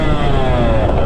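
Two-stroke motorcycle engine held wide open, a loud, sustained high-revving buzz with dense harmonics, steady throughout the short stretch.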